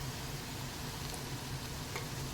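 Bitter gourd slices frying crisp in hot oil for a masala fry, a steady, even sizzle running throughout with no pauses and no voices.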